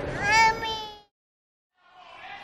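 A cat gives a loud, drawn-out meow, then falls silent for a moment before a second, softer meow follows, indoors at home.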